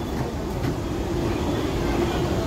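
A late-running train rumbles steadily at a railway station platform, a continuous low mechanical roar with a faint rail hum throughout.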